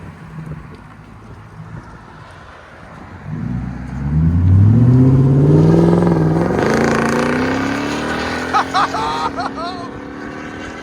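A 2020 Nissan Armada Platinum with a 5.6L V8 and Magnaflow Magnapack exhaust, out in the cold: a low idle swells into a loud, deep rev that climbs, holds and slowly falls away. Wind buffets the microphone, and a few clicks come near the end.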